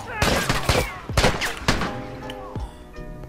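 Scoped semi-automatic rifle fire in The Last of Us multiplayer, a quick volley of sharp, loud shots in uneven bursts, some echoing over each other, with a voice talking between them.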